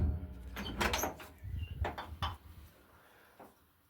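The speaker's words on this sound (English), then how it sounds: "This door closes really nice," The door of an Austin A30/35 classic car under restoration swings shut with a solid thunk, followed by a couple of lighter metallic clunks and a faint rattle as it settles, close by in a quiet garage.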